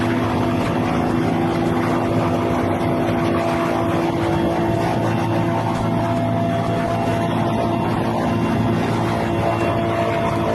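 A steady, loud rotor-engine drone throbs continuously without pause, like a helicopter idling close by, with no voices heard.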